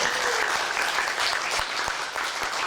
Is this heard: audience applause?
yes